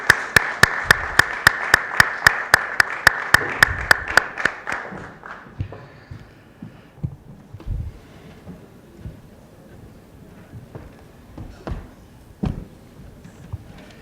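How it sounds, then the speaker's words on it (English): An audience greets panelists with a short burst of rhythmic clapping, sharp regular claps for about four seconds that then fade into scattered taps and faint room noise. "Let's welcome them with a round of applause"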